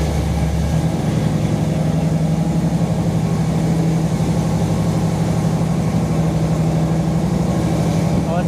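A Plymouth Fury, stripped down with nothing connected, drives along with a steady low engine drone that climbs and drops as it shifts up through its first gears. The engine stays close and fairly loud throughout.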